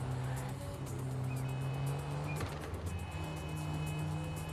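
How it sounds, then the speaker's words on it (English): A car is driven in the video game Neverness To Everness. Its engine makes a steady, fairly quiet hum that rises and dips slightly, with faint tonal whines over it and no talk. "We actually get to drive cars."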